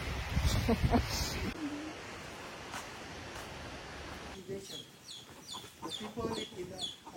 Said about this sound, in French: C'est des oiseaux, je pense.